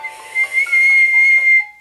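Whistled tone held steady for over a second, imitating a wolf howling at the moon during a Nintendogs + Cats training session; clear and close, with slight pitch wavering and faint background hiss.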